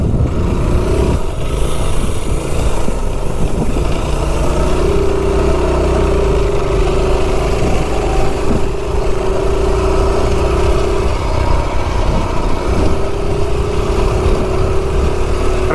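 A Kohler CH270 engine on a mini bike with a 17-tooth clutch pulls up a hill, a steady loud mid-pitched drone running without a break, the pitch rising and holding as it climbs.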